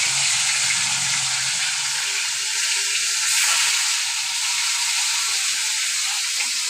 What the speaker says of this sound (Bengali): আমি এখন মাছটাকে একটু লাল লাল করে ভেজে দিই।